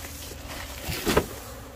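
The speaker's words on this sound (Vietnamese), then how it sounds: "Đàn ong" Honeybees swarm and buzz around wooden hive boxes, a faint steady hum with a louder buzz briefly passing close, plus light rustling, no voices.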